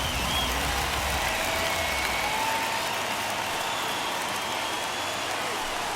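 A stadium crowd of over 39,000 in the MLB The Show 21 baseball video game roars steadily on its feet, a dense, continuous wash of cheering with no commentary audible.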